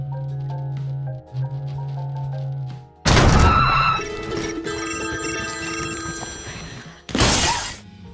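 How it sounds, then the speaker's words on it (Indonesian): Phones set with alarms ring out in a horror film scene: a steady electronic tone gives way to a loud, sudden burst of ringing and crashing noise, which fades and then returns briefly near the end. "handphone tersebut ternyata telah terpasang alarm"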